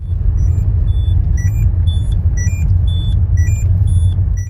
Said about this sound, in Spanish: si sigues conduciendo sin ponerte el cinturón, el pitido se vuelve más fuerte